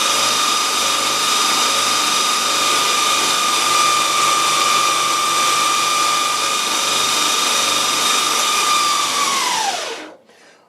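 A power tool sands the edges of kydex, a loud steady high-pitched motor whine that holds level for about ten seconds before winding down and stopping.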